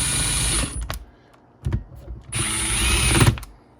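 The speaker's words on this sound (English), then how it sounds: "we're just gonna run this down with the impact real quick" Impact wrench running bolts down on a RZR front differential, two loud sustained whirring bursts with sharp hammering clatter, separated by a short quiet gap with a brief knock, close and without talk.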